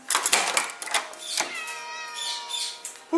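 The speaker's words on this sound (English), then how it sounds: "I got to let the cat in." A cat meows outside a door, with a series of close, fairly loud mews and harmonic cries that rise and fall over about three seconds.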